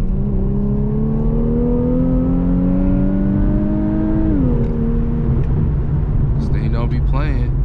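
Infiniti Q50 Red Sport accelerating on a freeway in Sport Plus mode: a steady, loud engine drone rising in pitch, dropping briefly at a gear change, then climbing again over road rumble, with faint voices near the end.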